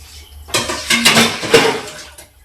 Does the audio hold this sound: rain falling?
no